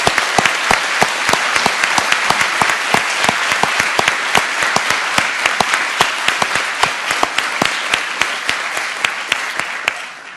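Sustained audience applause at a law school opening convocation, dense clapping from a large seated crowd with a few sharp close claps standing out, steady and loud before tapering at the very end.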